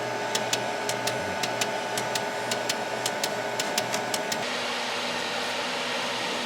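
A Glowforge UV printer hums steadily while its print head moves back and forth, with a fast regular ticking over the drone that stops partway through, leaving the hum.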